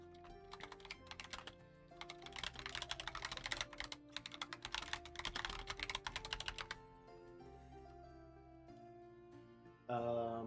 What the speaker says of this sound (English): Why do I hear him typing?